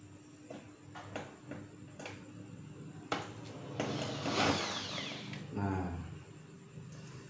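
A large power drill bores into plastic, whirring in short, uneven bursts close by, with clattering and scraping of material between runs.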